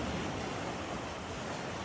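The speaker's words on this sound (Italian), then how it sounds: "Qua c'è il mare." Steady broadband wash of sea surf breaking on a rocky shore, continuous and fairly faint, with some wind noise and no voices.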